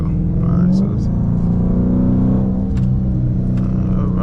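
A Chrysler 300 on Eibach Sportline lowering springs being driven, heard from inside as a loud steady engine and road rumble with a brief swell in revs and a few faint clicks.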